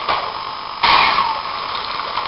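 Water gushing into the tender of a model locomotive, a steady pour that grows louder and fuller partway through and then runs on evenly, close by.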